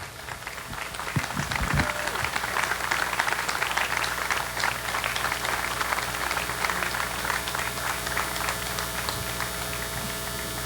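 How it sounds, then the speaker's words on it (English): A tour crowd at the Tomb of the Unknown Soldier claps steadily, a dense patter of many hands sustained for several seconds with no voices over it. "Let's give him another round of applause."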